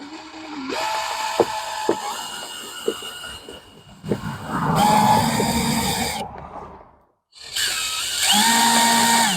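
Screwing a mounting clip for permanent outdoor lights into place, with close ratcheting clicks from a power driver in short bursts, a few sharp taps, and brief pauses between runs.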